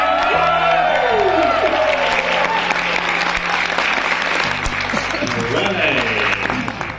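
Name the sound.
audience applause at convention award ceremony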